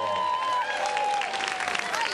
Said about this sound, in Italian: Non ho sentito l'applauso